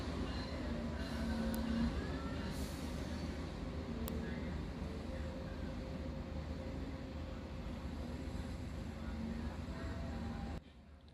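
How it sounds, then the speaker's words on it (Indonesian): Motis Nataru Utara passenger train standing at Pekalongan station, a steady low rumble and hum of the rail cars with faint squeals and brief station noise, continuous throughout before cutting away near the end. "Perjalanan saya bersama kereta api Motis Nataru Utara telah tiba di stasiun Pekalongan."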